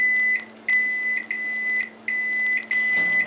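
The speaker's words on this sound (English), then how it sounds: "Okay, we're going to take our lime, put it in the microwave." A microwave oven heating a lime gives off a series of long, loud, high electronic beeps in a steady on-off pattern over a low running hum, with no voices.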